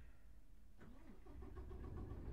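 Truck engine in American Truck Simulator cranks and struggles to start, a low grinding turnover that catches into a rough, wavering rumble and builds steadily, with no talk over it.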